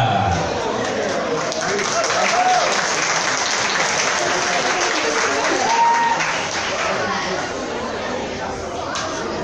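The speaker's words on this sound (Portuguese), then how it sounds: "com uma grande salva de palmas, vamos receber ele" A song festival crowd claps to welcome a singer, sustained applause mixed with chatter and scattered voices for about nine seconds.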